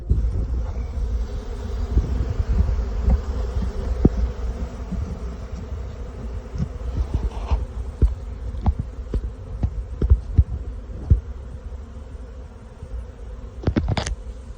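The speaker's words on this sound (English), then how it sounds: "Still lots of bees in the air." A steady swarm of honey bees buzzing all around, dense and continuous, with individual bees zipping close by now and then.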